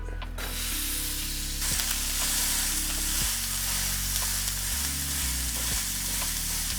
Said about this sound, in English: we got a hot pan going. First thing we're gonna do is cook our meat